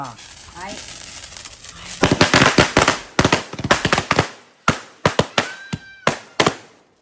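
Firecrackers bursting at a Vishu celebration: a rapid series of loud, sharp bangs and cracks, some in quick clusters, with people talking in the background before the bursts begin.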